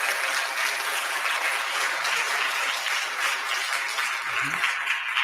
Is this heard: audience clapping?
yes